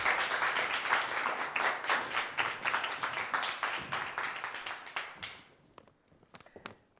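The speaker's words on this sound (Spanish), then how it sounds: "Recibámosla con un fuerte aplauso." A theatre audience applauds loudly to welcome a guest onto the stage at a live comedy talk show. The dense clapping runs for about five seconds, then thins to a few scattered claps and fades.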